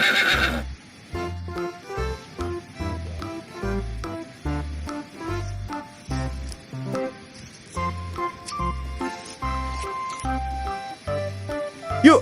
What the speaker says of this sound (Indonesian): Wah, ternyata ini mainan kuda.